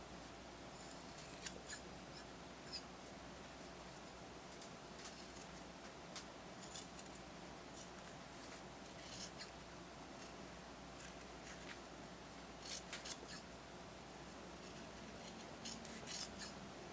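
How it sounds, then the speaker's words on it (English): Scissors snip away excess seam allowance on a small dragon plush piece, a series of faint, sharp, crisp cuts spaced irregularly over a quiet room background. "once again I'm trimming my excess seam allowance"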